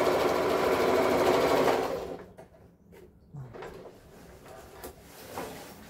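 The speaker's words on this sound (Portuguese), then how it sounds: "Eu vou fazer uma costura de segurança para a etiqueta." A sewing machine runs loud and continuous for about two seconds, stitching a safety seam to hold a label on a waterproof insulated lunch bag, then stops, leaving light handling clatter and faint rustles.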